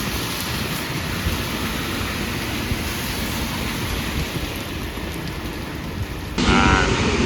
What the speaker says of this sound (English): it's fucking raining now and it's torrential